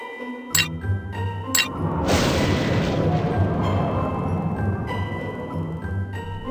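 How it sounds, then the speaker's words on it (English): A wind spell in the Disney's Villains' Revenge video game comes in as a loud broadband whoosh that surges at about two seconds and slowly fades, after sharp chiming hits. "Blast of wind."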